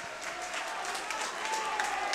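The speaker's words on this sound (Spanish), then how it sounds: "quiero un fuerte aplauso para el cortabigote" A crowd at a freestyle rap battle in La Plata applauds, a dense wash of clapping and cheering that holds steady and fairly loud for the whole stretch, with a faint whistle-like tone running through it.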